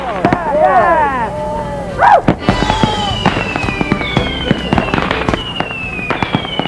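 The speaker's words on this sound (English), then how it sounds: "Tennis and golf tournaments. And fireworks." Fireworks at a Lake George cottage resort crackle and pop in rapid bursts, with whistling rockets rising and sharp bangs over a loud, busy background of people cheering and talking.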